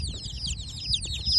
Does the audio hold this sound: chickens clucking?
yes